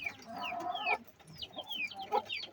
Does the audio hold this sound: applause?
no